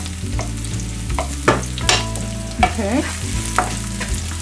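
Ginger frying in a pan for sweet and sour fish, a close, steady sizzle broken by scraping stirs of a utensil against the pan, with a low hum underneath and a brief word spoken.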